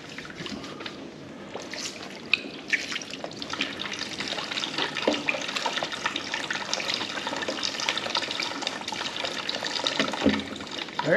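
Water runs steadily from an Alpcour portable sink as hands are wetted beneath it, a continuous close splashing stream with small shifts as the hands move, with no talk.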